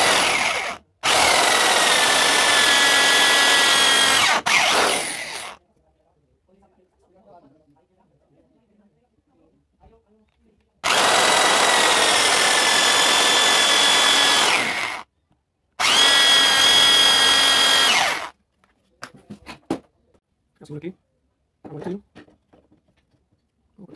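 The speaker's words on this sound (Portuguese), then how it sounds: "Aí eu faço essas duas furação com a furadeira e boto dois pregos" A power drill whines loudly in two long bursts, drilling two holes in the wooden neck joint of an acoustic guitar, with a quiet pause between them and faint handling clatter afterward.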